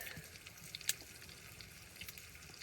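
Meat sears on a camp stove during winter camping, a steady, faint sizzle and crackle with a few small pops, heard close with no voices.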